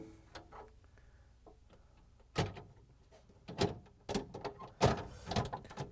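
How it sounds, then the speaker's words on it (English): Lower drawer of a GE refrigerator being set onto its rails, a few quiet plastic clicks followed by several louder knocks and clunks as it seats. "we're just going to set the drawer in there"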